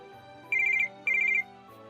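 A mobile phone ringtone plays two short, bright electronic trilling bursts in quick succession over a quiet background, with no one speaking.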